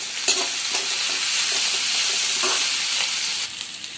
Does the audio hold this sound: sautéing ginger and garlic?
yes